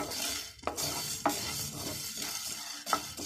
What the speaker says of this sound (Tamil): பொன்னீரமாக வறுக்கணும்.